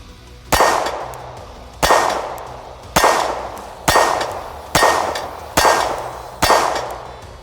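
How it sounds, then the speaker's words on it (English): A Springfield Armory Hellcat micro-compact pistol, a small 18-ounce concealed-carry gun, fires seven loud, sharp shots at a steady pace of roughly one per second, and each crack rings out briefly. "let's put a few rounds through this, and let's see how this Hellcat runs"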